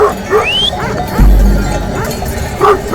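Kangal livestock guardian dogs bark in short bursts, a few loud yips spaced apart, with a thud and some background noise between them.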